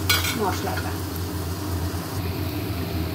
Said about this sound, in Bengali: মশলা কষা হচ্ছে, আজকে অনেক ঝাল ঝাল করে করছি।